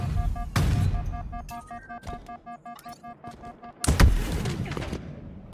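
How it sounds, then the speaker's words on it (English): Gunfire in a Halo match at a competitive esports event, several sharp shots with one heavy blast near the end over steady game hum, with no talk. "So Glory gonna burn a couple of bullets."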